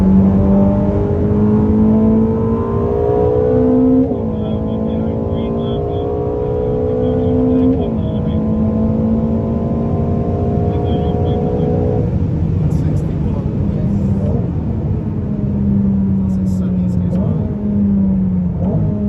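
A Ferrari SF90 Stradale hybrid supercar pulls hard in fourth gear on the Portimão race track, its engine note climbing in rising sweeps with brief dips at shifts, heard from inside the cabin while people talk over it.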